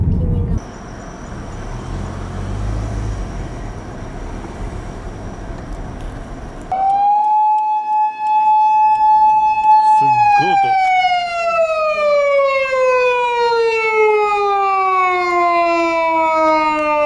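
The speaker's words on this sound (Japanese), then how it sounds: "パトカーが行った。" A police siren wails loudly, its pitch sliding down as the car passes close by during a large fire in a dense residential area, preceded by rumbling traffic noise.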